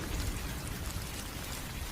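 Heavy monsoon rain pours in a dense, unbroken hiss as a storm sound effect for a Bengali village horror story set on a flood night, steady and enveloping with no voices.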